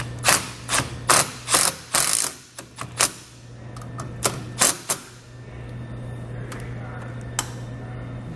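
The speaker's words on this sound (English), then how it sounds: "to mount the plug, I'm just going to use a couple self-tapping screws" Self-tapping screws are driven through a wiring plug into two rods on a base plate while a trailer wiring kit is installed. A run of sharp, ratcheting clicks in quick bursts comes up close and fairly loud, then thins to a few isolated ticks over a steady low hum.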